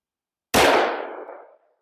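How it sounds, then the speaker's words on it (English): A single close, loud gunshot from a 5-inch 1911 Remington R1 pistol firing a 40 Super DoubleTap 135-grain round on a range, a sharp crack with a ringing tail that fades over about a second. "Now let's get to shooting."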